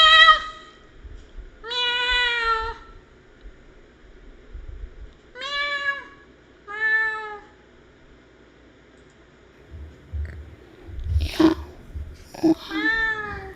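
A human voice imitates a cat, giving a series of drawn-out meows spaced a few seconds apart. Brief talk and scuffling noises follow near the end.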